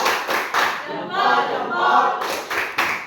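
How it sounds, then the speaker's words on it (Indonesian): Group clapping-chant salute of rhythmic hand claps with voices joining in between bursts, from participants in an Indonesian Catholic religious education teacher-training session; claps open and close the short burst. "Oke, tepuk salut."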